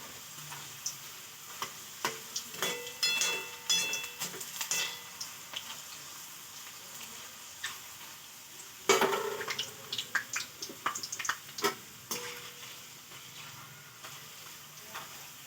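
Banana chips fry in hot oil, giving a quiet, steady sizzle with scattered ticks and the occasional stir or scrape. Nobody speaks.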